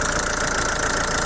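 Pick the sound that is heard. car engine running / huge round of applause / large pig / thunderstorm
car engine running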